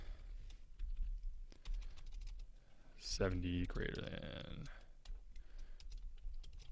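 Quick clicking of a computer keyboard as Python code is typed, heard as scattered keystrokes under a man's ongoing speech.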